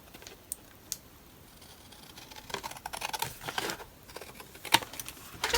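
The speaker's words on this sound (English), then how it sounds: "I'm just going to trim that with my scissors" Scissors snip paper in a few quiet, irregular cuts and crisp clicks, close by, with soft rustling between them.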